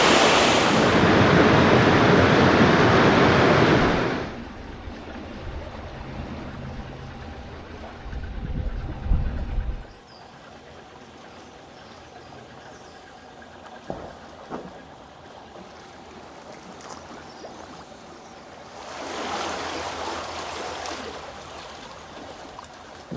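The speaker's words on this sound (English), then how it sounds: "We're short of water in the last pound, and this one's overtopping." Steady rushing water overtopping a canal lock, loud at first and then quieter, with a low churning underneath and occasional knocks; the roar swells again near the end.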